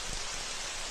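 Steady rain falling as a continuous, even hiss, fairly quiet and unbroken throughout.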